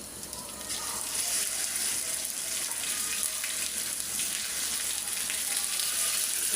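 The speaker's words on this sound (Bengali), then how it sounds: "তেজপাতা আমি দিয়ে দিলাম, এই জন্য ছিটতেছে।" Bay leaves splutter in hot oil in a pan for a five-vegetable dal, making a loud, continuous, close sizzle with dense crackling throughout.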